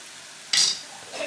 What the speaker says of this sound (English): So you can see it boiling.